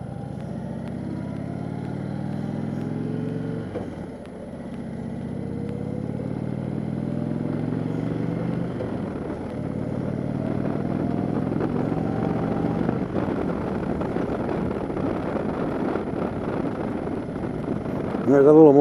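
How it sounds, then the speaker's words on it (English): An Indian Chieftain motorcycle engine rumbles deep and throaty for a long stretch, idling and revving in waves, with a voice talking over it. "I love the sound of the bike. It's a good throaty rumble."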